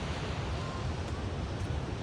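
Ocean waves wash onto Chalet Beach on the Central Coast of New South Wales, Australia, a steady, loud surf roar mixed with wind buffeting the microphone, no voices.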